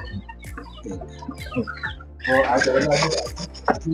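Hybrid chickens on a local poultry farm cluck nearby in short repeated calls, growing into a busier, louder chorus of squawks partway through, with people talking among the birds.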